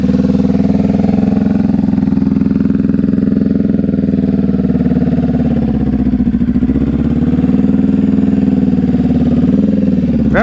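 A motorcycle engine hums steadily at low revs as the rider feeds in throttle during slow-speed riding practice, a loud close drone with slight swells in pitch throughout.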